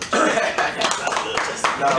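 Hand clapping during a casual podcast conversation, with a few sharp claps among light laughter and voices in a small room.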